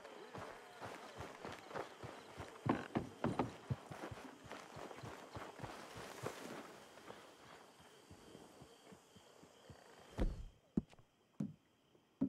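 Horse hooves clip-clop in the video game Red Dead Redemption 2, a quick, regular run of close footfalls that slows into a few scattered heavier thuds near the end.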